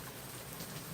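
Steady rain falls outdoors in Georgia on a breezy day, a faint, even hiss of drops on surfaces that holds for the full second with no voices.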